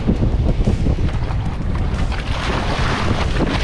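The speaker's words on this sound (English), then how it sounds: "It's blowing southerly at about 15 to 20 knots." Strong southerly wind of about 15 to 20 knots buffets a small fishing boat on an inshore Australian reef, with loud continuous wind roar over the microphone and waves slapping against the hull.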